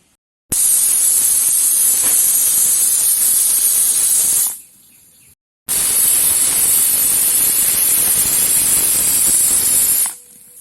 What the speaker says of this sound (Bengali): এবারে আস্তে আস্তে জাল দিয়ে আমি 12-13টা সিটি দিয়ে নেব